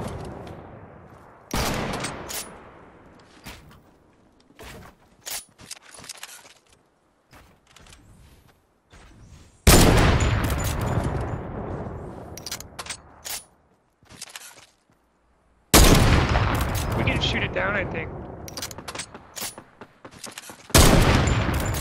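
Bursts of automatic gunfire from a shooter video game, with several loud sustained volleys broken by quieter stretches of sporadic shots and clicks.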